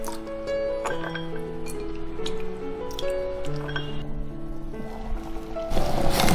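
Goji berries and other dried herbs being rinsed in a bowl of water in a home kitchen, with soft splashing, squishing and light clinks in a steady stream, close and moderately loud, with no talking.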